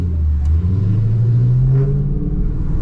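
A Dodge Charger R/T's 5.7 Hemi with longtube headers, straight pipe and E85 tune rumbles loud and deep at close range, holding a steady low drone that slowly rises in pitch under acceleration.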